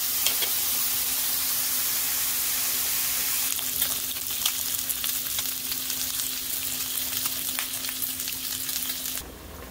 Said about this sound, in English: the pork belly is all browned up